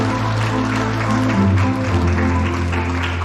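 Applause welcoming artists at an art exhibition opening, a steady patter of clapping over a droning, tonal hum in the room.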